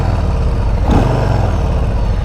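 A Harley-Davidson Street Bob 114's Milwaukee 8 engine rumbles loud and steady up close, a low throbbing idle with one short swell in the middle.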